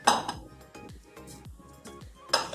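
Ground cashew powder being strained in a bowl, giving a series of light metallic clinks and scrapes with a few sharper knocks at the start and near the end, close and fairly quiet.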